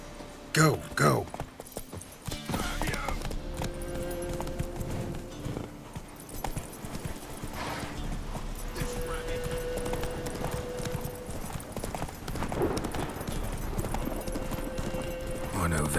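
Horse hooves clip-clop at a gallop through the open world of the video game The Witcher 3: Wild Hunt, a steady, continuous rhythm with an occasional whinny, running under game music and bits of character voice.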